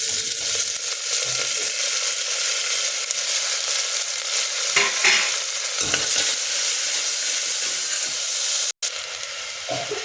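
Capsicum, onion and tomato fry in a pan with browned cumin, sizzling and hissing steadily while a spoon stirs and scrapes through them at close range.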